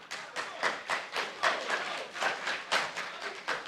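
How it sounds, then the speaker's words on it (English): Scattered audience clapping at a secondary school quiz competition, a quarter-final between two schools, with irregular claps pulsing close and fairly steady through the moment. "Oh, clap."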